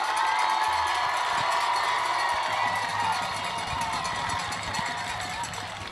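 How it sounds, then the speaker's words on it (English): Crowd at a high school varsity football game between Norwood and Purcell Marion cheering and applauding both teams, a broad sustained roar with shouts, slowly easing off. "Round of applause for both ball teams"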